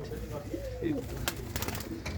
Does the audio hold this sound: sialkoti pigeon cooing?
yes